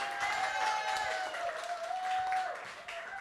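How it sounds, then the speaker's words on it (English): An audience at a grown-up show-and-tell evening claps steadily for a few seconds as a presenter heads to the stage, a moderate, even patter of many hands with a sustained tone ringing over it. "let's get some claps going as Ethan makes his way to the stage"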